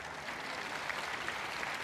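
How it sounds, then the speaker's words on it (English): Crowd applause at a FIBA Women's Asia Cup basketball game, New Zealand v Korea, as an injured player is wheeled off the floor; steady, moderately distant clapping fills the arena throughout. "Great round of applause from the crowd as Kang Isa gets wheeled off the floor"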